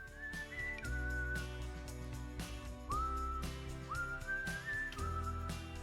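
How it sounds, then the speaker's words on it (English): A person whistles a short melody, clear sustained notes with slides between pitches, heard over a backing of musical chords. "Whistling is pretty fucking annoying."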